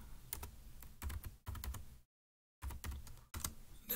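Computer keyboard being typed on at close range while a username is entered, quick clustered keystrokes in short bursts, broken by a brief full silence before another run of taps.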